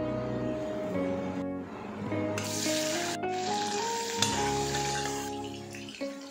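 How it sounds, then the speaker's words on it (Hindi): Cumin and bell pepper frying in hot oil, a continuous crackling sizzle with stirring clinks and steady kitchen background, no talking. "तेल डाला, डायरेक्ट ज़ीरा डाला और शिमला मिर्च डाला ताकि शिमला मिर्च अच्छे से भून जाए"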